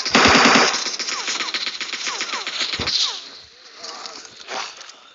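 Rapid bursts of automatic machine-gun fire in PUBG Mobile's zombie mode, loud and close at the start and then continuing in quicker, fainter rattles.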